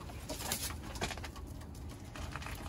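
Pigeons coo softly at a seller's loft in Sialkot, with low murmuring calls against a busy, noisy background and no speech.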